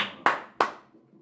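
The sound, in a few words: bony hands clapping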